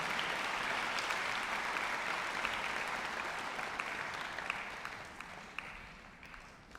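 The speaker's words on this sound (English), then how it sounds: "Big round of applause, please." A concert hall audience applauds steadily, a dense wash of clapping that slowly fades toward the end.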